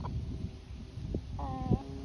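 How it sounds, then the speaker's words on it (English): A black sex-link hen gives a few soft, short clucks and a brief murmuring call, faint and close against quiet background noise. "This is my black sex-link chicken."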